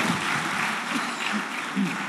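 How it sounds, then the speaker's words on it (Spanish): A church congregation claps together during a service, an even wash of applause heard somewhat distantly and fairly quietly. "Así que los que están en radio le damos el aplauso, le demos el aplauso."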